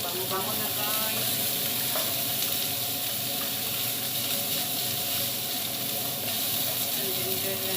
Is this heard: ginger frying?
yes